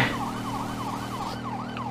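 Wailing emergency vehicle siren from Grand Theft Auto V, a steady rising-and-falling sweep repeating about every quarter second over a constant engine drone, loud and close with no talk.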